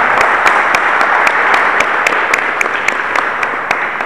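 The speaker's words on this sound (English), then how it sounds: "I think he deserves a huge round of applause." A room of listeners at a New Orleans quarterback club luncheon breaks into steady, dense applause that holds at a sustained level throughout, with a few sharper individual claps standing out.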